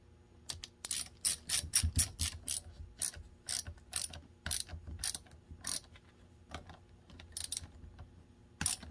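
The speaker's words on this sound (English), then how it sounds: "The thicker locking nut went on top, what held the battery cable on. 12 millimeter socket." A 12 mm socket ratchet clicks in rapid repeated bursts while tightening a battery cable locking nut on a Honda Fit starter, crisp, close and loud, with short pauses between strokes and no talk.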